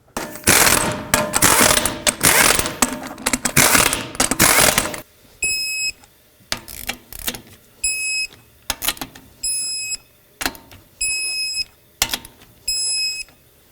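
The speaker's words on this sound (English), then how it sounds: "Start on all 5 of your lug nuts, snug them up, and then torque them to 100 foot-pounds." Lug nuts tightened on a 2007-2009 Saturn Aura wheel, a loud burst of ratcheting at first, then repeated short bursts of ratchet clicking separated by pauses, some with high metallic ringing clicks.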